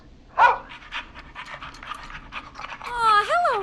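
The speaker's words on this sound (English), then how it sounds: "Max is my emotional support dog." A dog panting in the game Killer Frequency, quick rhythmic breaths close up, with short whimpering yelps near the start and end.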